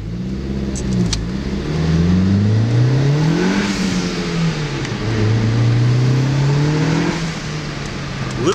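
A 2001 Audi A4 B5 with a 1.8T turbo four pulls hard through rising and falling revs under load, loud and close from inside, with a brief turbo release between shifts.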